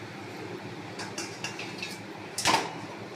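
A metal lid set onto a cooking pot of simmering chicken masala curry on a gas stove, a few light clinks followed by one sharper clatter near the end.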